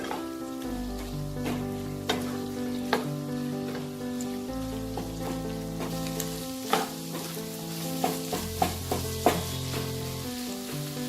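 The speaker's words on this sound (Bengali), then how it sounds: "ডিমটা দিয়ে এটাকে ভেজে নেব" Rice frying with egg in a pan for Schezwan chicken fried rice, a constant close sizzle broken by repeated clacks and scrapes of stirring, with no talk.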